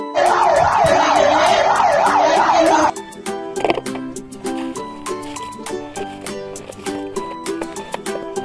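A loud, rapidly wailing electronic siren from a toy fire truck sounds for a few seconds, then cuts off, giving way to jingly music with clicking.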